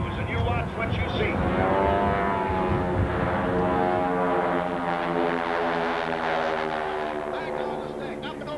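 Stearman biplanes of the Red Baron squadron fly overhead at an air show, their radial engines making a loud, continuous droning roar that shifts in pitch as they pass, with an announcer talking over it.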